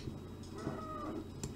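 Cows mooing in McDonalds Simulator, a single short low moo heard faintly amid quiet farm ambience.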